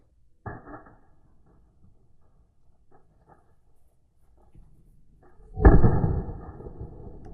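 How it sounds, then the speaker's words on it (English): A soft thump, a stretch of near silence, then one loud, sharp gunshot bang with a rumbling tail fading out. "Gun went off right there."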